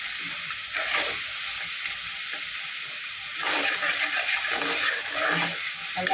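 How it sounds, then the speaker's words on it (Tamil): Shrimp and crab sautéing with salt in a pan for a prawn and crab gravy, a steady close sizzle with bursts of louder frying and scraping stirs, no talking. "அதனால் கம்மியாக போட்டு உப்பு போட்டு நல்லா வதக்குறேன்."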